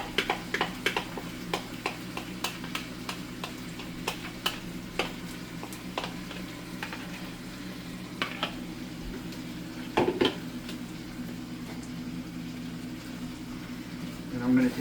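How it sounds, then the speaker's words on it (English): Barbecue sauce is dumped into a pan of rib meat and stirred in, giving scattered clinks and scrapes of utensil against pan over a low hum, with brief louder knocks near the middle and end. "I'm going to dump the sauce in here."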